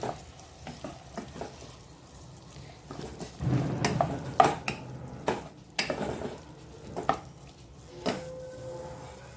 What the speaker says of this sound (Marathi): आता यात आल्या लसणीची पेस्ट टाकली मी एक चमचा ती मिक्स करून घेऊया